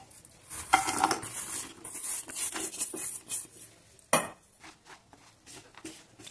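Jaggery scraped and stirred with a metal spoon in a pan of ghee for fenugreek ladoos, giving close clinks and scrapes of utensil on metal with one sharp clatter midway, no talk.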